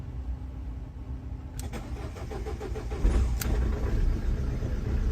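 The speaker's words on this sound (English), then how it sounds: "you'll be able to start the vehicle using just a screwdriver" A Ford Transit Connect van's ignition is turned with a screwdriver: a brief click and a whirring crank, then the engine catches and settles into a steady idle that grows slightly louder, heard up close.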